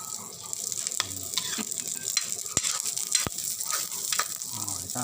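Liver sizzles and spits steadily in a hot frying pan while a utensil stirs it now and then with sharp scrapes and clicks, a close, continuous frying hiss with no speech over it.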